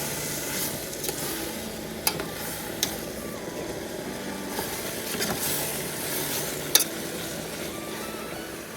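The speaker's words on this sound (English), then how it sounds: "we're going to add the lamb that we browned earlier back in there." Browned lamb stirred back into a sizzling camp pot outdoors in winter gives a steady close frying hiss, broken by a few sharp clicks and scrapes as the spoon knocks the pot.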